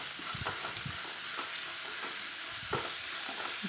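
Onions sauté in a pan, a steady close sizzle broken by several soft stirring scrapes, with no one speaking.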